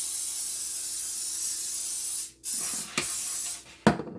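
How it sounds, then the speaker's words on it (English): Cooking spray hisses from an aerosol can onto a pan in a kitchen, a steady loud spray that cuts off, then short bursts follow after a brief pause. "We'll spray this pan."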